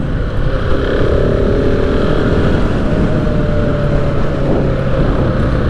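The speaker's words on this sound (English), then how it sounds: "Bike sounds pretty good on the freeway." Steady, continuous engine drone of a 2021 KTM 690 Enduro R motorcycle cruising on a freeway, loud throughout with heavy wind rumble and a held tone, no talking.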